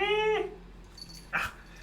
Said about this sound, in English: Look, Yoko, there's a doggy.